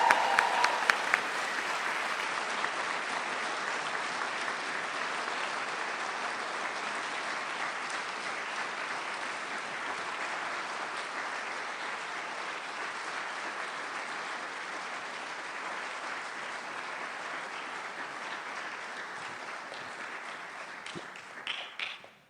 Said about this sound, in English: Please join me one more time in the last round of applause for our Army's newest second lieutenants